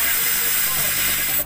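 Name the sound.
air hissing out of engine intake valve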